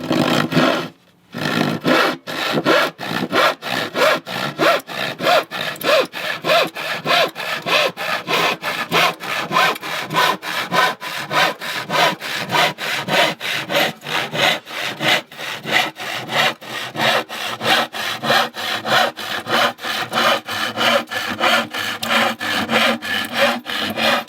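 A 9-tooth saw cuts through wood in fast, even back-and-forth strokes, a loud continuous rasping rhythm that runs alone after a brief pause near the start.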